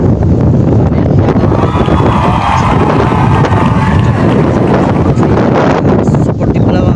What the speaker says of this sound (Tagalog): Grabe hangin yun